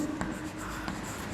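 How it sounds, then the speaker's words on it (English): Someone writes numbers by hand, a short, close, soft scratching of pen or chalk strokes with a couple of slightly sharper marks, lasting just over a second. "let me write it for you"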